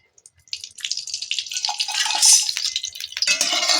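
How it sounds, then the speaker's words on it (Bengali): Cooking oil is poured into a kadai, a steady liquid trickle with light splashing that builds over a few seconds, close and fairly clear with no talk. "প্রথমে একটি কড়া বসিয়ে দিয়েছি দিয়ে দেব তেল"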